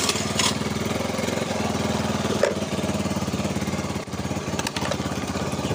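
A Honda Beat carburetor-type motorcycle with newly full-wave wiring idles close by, its engine giving off a steady, even putter with a rough mechanical edge and no talk.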